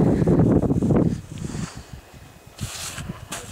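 Gusty wind blowing across a mountainside below Mont Blanc, a heavy roaring buffet at first that eases into lighter, fluttering gusts with brief rustles.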